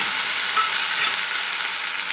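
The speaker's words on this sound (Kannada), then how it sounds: "ಇದಕ್ಕೆ ಚೆನ್ನಾಗಿ ಫ್ರೈ ಮಾಡ್ಕೊಬೇಕು." Indian borage leaves frying in oil with green chillies and garlic produce a continuous loud, even sizzling hiss with no pauses and no voices.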